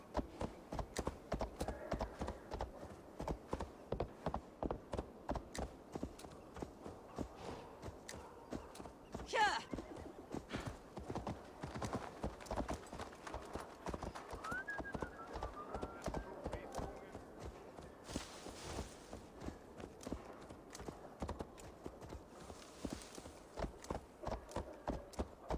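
Rapid clip-clop of a galloping horse in Assassin's Creed Valhalla, steady hoofbeats running throughout with a brief whinny, while game sound and a voice talk over it.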